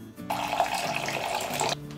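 Water runs from a kitchen tap in a steady, close splashing stream for about a second and a half, then stops abruptly, while radish cake batter for a Taiwanese rice and radish cake is being prepared.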